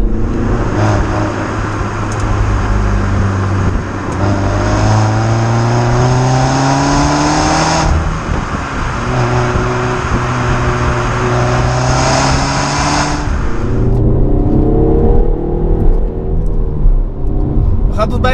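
A new Peugeot 308 GTi revs hard while driving, heard from inside the car: a loud, continuous engine note that climbs and falls in pitch through repeated sweeps as it accelerates.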